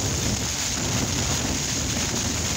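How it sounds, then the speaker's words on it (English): Strong wind and rain batter a Hilleberg Tarra tent in extreme weather in the Yorkshire Dales, a steady, loud roar of gusting wind and drumming rain that fills the whole clip with no talk. "Whatever that wind wants to do, it just wants to destroy everything."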